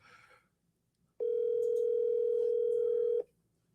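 A phone call rings out unanswered, heard as a single loud, steady ringback tone lasting about two seconds before cutting off, preceded by a brief faint murmur.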